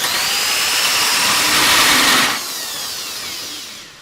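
A power drill bores through a metal go-kart frame tube in a home workshop, a loud continuous whine that swells and then drops to a lower, steadier grind near the end.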